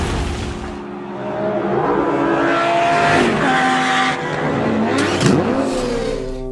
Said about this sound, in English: pipes to give you that beautiful sound of the 5-cylinder turbocharged engine